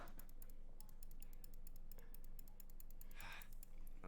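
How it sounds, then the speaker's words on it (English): Rapid, fierce clicking of a mouse or keys while playing a video game, a steady quiet patter of small ticks with no talk. "You just hear me fiercely clicking."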